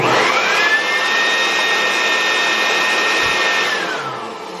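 A miniature leaf blower spins up quickly into a loud, high-pitched, whining rush of air, holds steady for several seconds, then winds down as the motor slows.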